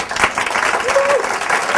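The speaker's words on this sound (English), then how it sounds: "That deserves a round of applause" An audience breaks into a round of applause, a short, loud burst of clapping with some voices mixed in and a brief tonal call rising over the crowd.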